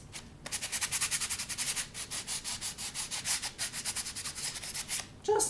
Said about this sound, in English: I'm going to use my sanding block. I'm going to dull the front of the card, and very, very simple. I'm just rubbing that across.